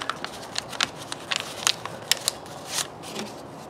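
Scissors snip through yellow paper being trimmed for a homemade sticky insect trap, giving a series of crisp, close cuts and rustles at an irregular pace with no talking.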